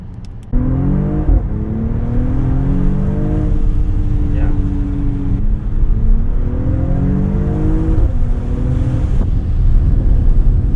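A 2021 AMG GLE 53 Coupe accelerates hard, its engine note climbing and dropping through several gear changes with a few exhaust pops, loud and close.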